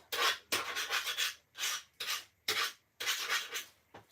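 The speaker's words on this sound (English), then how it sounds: "I'm just going to scrape them off." Paper scraps scraped off a craft surface into a bin while making a Stampin' Up! shaker card, heard as a series of close, repeated rasping strokes, each about half a second long, with short gaps between them.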